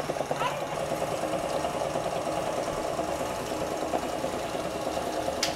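A KitchenAid stand mixer whirs steadily as it churns fresh cream into butter, a continuous mid-pitched motor drone that stays level throughout, with a brief clink near the end.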